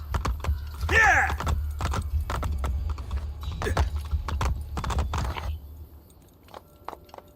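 Horse hooves clip-clop steadily in Assassin's Creed Brotherhood as a rider gallops, a rapid repeating patter of close, crisp thuds alongside game effects, with a brief vocal call.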